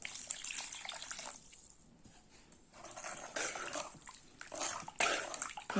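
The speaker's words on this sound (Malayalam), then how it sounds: "നമുക്ക് വെള്ളം ആവശ്യത്തിന് ഒഴിക്കാം" Water pours into a pan of fish curry base, a faint splashing, gushing stream that comes in bursts with brief pauses, growing a little stronger toward the end, with no talking.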